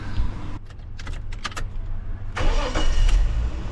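A Holden VL Commodore with a freshly repaired exhaust cranks and starts, a few sharp clicks and whirs before the engine catches into a steady, fairly quiet idle close by.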